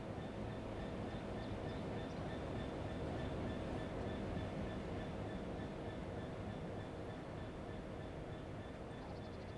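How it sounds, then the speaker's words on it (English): Diesel train engine in Train Sim World 3 rumbling steadily and continuously, a dense low drone with faint clicking, heard alone at a moderate level. "I hear a diesel."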